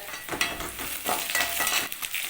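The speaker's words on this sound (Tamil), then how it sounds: "பெரிய தக்காளியாக இருந்தால் ஒரு தக்காளி சின்ன தக்காளியாக இருந்தால் ரெண்டு தக்காளி போட்டு வதக்கணும்" Tomato and curry leaves sauté in a pan with a steady close sizzle and a few stirring scrapes, for a curry.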